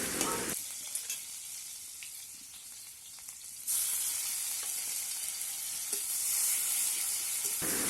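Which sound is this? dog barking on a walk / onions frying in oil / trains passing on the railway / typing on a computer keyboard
onions frying in oil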